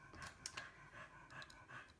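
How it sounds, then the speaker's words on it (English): A dog pants close by indoors, quick rhythmic breaths repeating steadily throughout without pause. "That's not me breathing. That's the dog."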